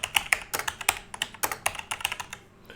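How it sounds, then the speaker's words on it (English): Rapid, even keystrokes on a computer keyboard while typing a name into an ebook cover design tool, close and crisp, a steady run of taps with no voices. "you type your name in here."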